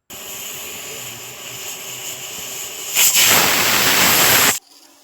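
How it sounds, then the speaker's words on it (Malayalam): A pressure cooker brewing mint tea hisses steadily, then bursts into a loud rushing steam whistle that lasts about a second and a half before stopping abruptly. "അങ്ങനെ കുക്കർ ചായയിൽ ഒരു പിസിൽ പോയി."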